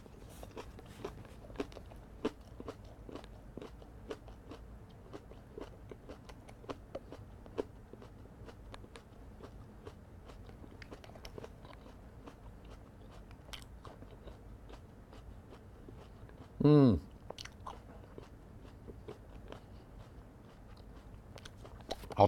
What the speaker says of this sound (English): I'll chew it and get it all out of the way first.